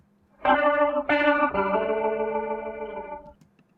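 A guitar chord swirls through a Leslie rotary speaker, its tone wobbling and shimmering, with a second strum following and ringing out before cutting off.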